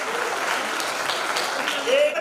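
A large crowd at an inauguration of an all-India radio listeners' convention claps steadily in a dense, continuous burst of applause, holding an even level throughout, with a brief voice-like tone rising near the end.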